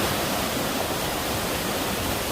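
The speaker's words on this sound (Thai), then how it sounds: "น้ำตกสวยนะคะ" Continuous rushing water of the Krok E-Dok waterfall in Thailand, a dense, even roar that stays constant and loud with no talking.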